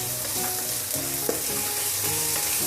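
Minced garlic sizzles in a hot pan with onions as it is stirred, a steady frying hiss broken by light scraping and clicking of the spoon, close and alone.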